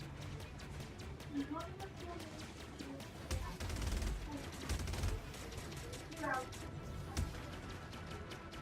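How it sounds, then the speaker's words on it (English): Ballistic cannons fire in the space game Star Citizen as a rapid volley of sharp, meaty thuds, with bursts that swell and fade over a constant low rumble, heard faintly and under intermittent talk. "Now those cannons do make a really satisfying sound."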